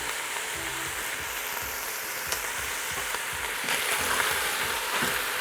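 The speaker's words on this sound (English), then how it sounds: "And we just wanna stir this until our vegetables soften and the sausage starts to cook through." Sausage, mushrooms and vegetables sizzle steadily in a pot for Tuscan sausage soup, with a dense continuous crackle, occasional soft scrapes from stirring, and the frying growing slightly louder toward the end; no one speaks.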